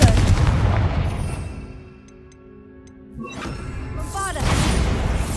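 Confringo fire spells exploding in the Hogwarts Legacy video game: loud crackling blasts at the start, a quieter lull with sparkling tones, then another burst of explosive noise near the end.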